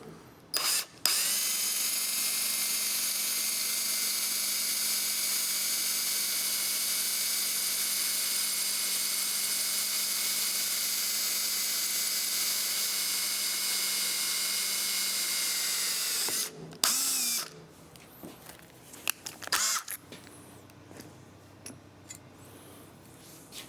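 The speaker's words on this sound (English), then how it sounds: "Okay, the number 9 drill." A power drill with a number 9 bit whirs in one long steady high-pitched run, then stops, followed by faint clicks and handling noises.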